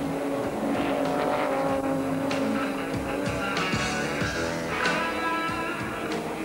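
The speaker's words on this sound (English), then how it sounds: "Repsol and Damso were side by side down the main straight, and the race cam from Damso's car supplies all the action." Modified race cars from a 1992 season run side by side down the main straight, a dense, continuous engine roar heard from onboard with shifting pitch and no speech.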